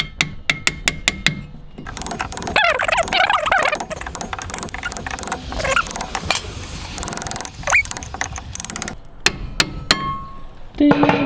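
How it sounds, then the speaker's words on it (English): A brake pad liberator tool strikes a Brembo caliper on a Subaru WRX: a quick run of sharp metallic taps, then rattling and scraping, with more clanging hits near the end, all close up. "brake pad liberator."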